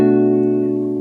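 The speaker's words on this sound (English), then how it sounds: "I will teach you one jazz chord by the end of this lesson, and it sounds like this." A single jazz minor seventh chord rings out on acoustic guitar, sustained and clear for about a second and decaying slowly.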